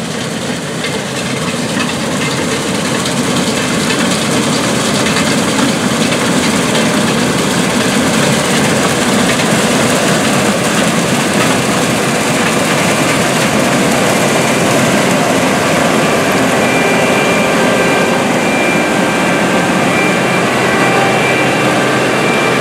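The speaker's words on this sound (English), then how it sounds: "an International 1460 harvesting soybeans in western Kentucky" A 1984 International Harvester 1460 Axial-Flow combine harvests soybeans in a western Kentucky field, giving a loud, steady, continuous engine and threshing drone that stays unchanged throughout with no pauses.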